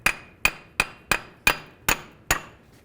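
A hammer taps on the front suspension knuckle of a 2002-2009 Chevy Trailblazer during a CV axle replacement: seven sharp, ringing metallic strikes at a steady rhythm, loud and close, with no talking.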